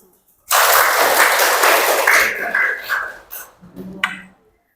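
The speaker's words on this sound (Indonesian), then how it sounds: "Tepuk tangan untuk kita semua." A group claps their hands together in a dense burst of applause that starts abruptly, stays strong for a couple of seconds, then thins into scattered claps and fades out.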